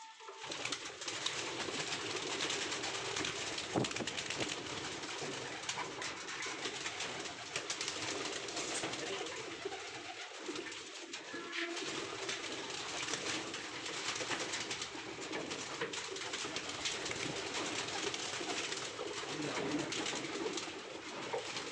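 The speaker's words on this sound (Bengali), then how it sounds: "এই যে দুইটা কবুতর দেখতে পারতেছেন" Two caged pigeons coo softly and repeatedly under a constant loud wash of background noise that runs the whole time.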